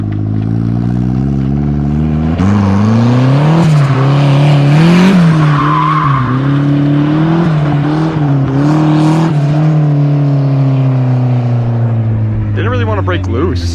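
A turbocharged Mazda Miata drifts on track, its engine revving up and down in rising and falling sweeps with tire squeal, heard loud and close from inside a car while people talk over it.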